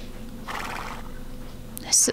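In the video game CHKN, a strange horse lets out a brief, sharp whinny near the end, louder than the quiet background, after a soft murmur of speech.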